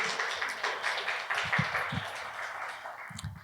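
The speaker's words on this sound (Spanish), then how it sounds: "Un fuerte aplauso." An audience applauds during a family-themed talk: a sustained wash of clapping that rises and fades, with a few louder individual claps near the end.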